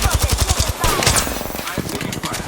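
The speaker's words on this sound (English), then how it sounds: "I'm taking fire." Rapid automatic gunfire from an R99 submachine gun in the battle royale game Apex Legends, a fast rattling burst up close that gives way to scattered shots and impacts.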